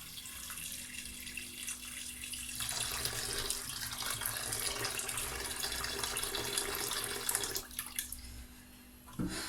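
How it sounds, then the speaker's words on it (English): Water pours steadily from a tap or jug into a pot of ordinary beef being prepared for pilau, a continuous splashing rush lasting several seconds before tapering off near the end. "So I'm going to add some water."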